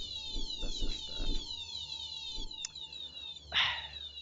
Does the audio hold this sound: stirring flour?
no